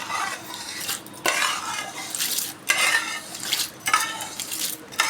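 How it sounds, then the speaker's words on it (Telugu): A spoon repeatedly scrapes and stirs through cooled tomato pickle mixed with tempering oil, in steady, close, moderately loud bursts of wet clinking against the pot. "తాలింపు నూనె వేసుకోండి ఇట్లా కలుపుకోవాలి"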